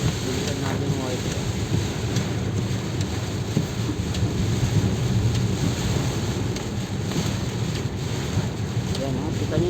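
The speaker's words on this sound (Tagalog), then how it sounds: "yung hampas ng hangin tsaka yung ulan" Strong Typhoon Kristine wind and rain roar steadily outdoors, a dense, constant rushing wash with buffeting against the microphone and no break throughout.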